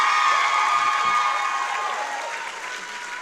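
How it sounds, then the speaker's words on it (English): Audience applause for the faculty at a Clark Atlanta University School of Social Work master's graduation ceremony, a dense steady clapping from a large crowd that starts loud and gradually tapers off. "Please join me in giving a round of applause to our wonderful faculty."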